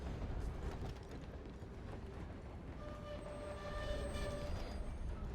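A moving train in the Red Dead Redemption 2 video game rumbles steadily and loudly throughout, with dense low roar, rattling cars and faint high metallic squeals joining partway through.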